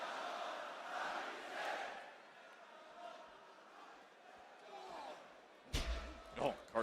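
Wrestling crowd at a SmackDown arena show chants, split between rival calls, a rolling swell of massed voices under close commentary, with sharp impacts near the end.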